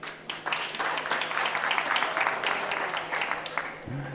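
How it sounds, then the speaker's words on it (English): An audience at a COP 28 panel session applauds a speaker with a burst of steady, moderately loud clapping that fills the room, then fades out at the end. "Please, a round of applause."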